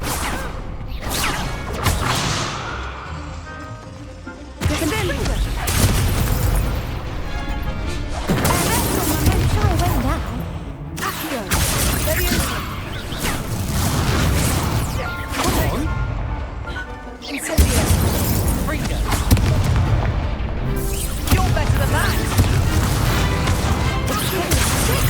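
Confringo explosive spells blasting in Hogwarts Legacy: a run of loud, booming crashes and whooshing impacts in repeated bursts, heavy and close, with speech over the combat.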